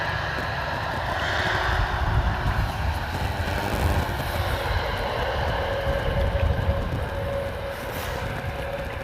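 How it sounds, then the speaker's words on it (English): An ITA Airways Airbus A380 arriving from Rome lands on the Polderbaan at Amsterdam Schiphol, a broad steady engine roar mixed with wind noise, moderately distant and continuous throughout. "We have ITA Airways landing in from Rome to Amsterdam."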